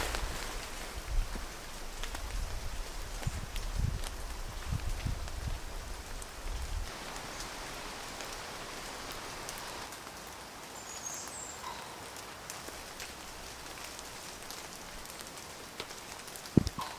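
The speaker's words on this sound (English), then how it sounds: "It's been raining for the last few days." Steady rain falls on a saturated woodland campsite after days of wet weather, a soft, even hiss of drops on leaves and ground that continues throughout at low, constant volume.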